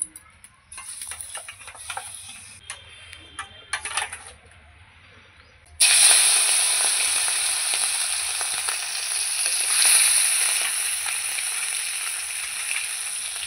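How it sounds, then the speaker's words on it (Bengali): Chicken pieces go into hot oil. After several seconds of quiet clinks and handling, a sudden loud, close sizzle erupts and stays strong and steady to the end. "তেল আমার গরম হয়ে গেছে, এবার মাংসগুলো আমি প্রথমে ভেজে নেব।"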